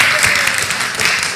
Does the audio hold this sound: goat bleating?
no